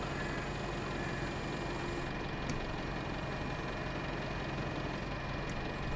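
Steady low engine drone of a tractor in the Farming Simulator 22 video game, a continuous idling rumble holding at an even level throughout with no speech.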